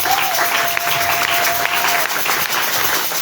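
Congregation in a church clapping and applauding to acclaim the Lord, a dense, loud, continuous wash of many hands beating together with crowd noise, a sustained tone running through the first part.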